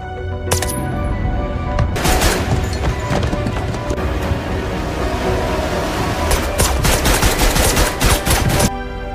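Dense, sustained machine gun fire and bursts of gunshots in a film battle scene, loud and continuous for the whole stretch with sharp cracks crowding the later seconds.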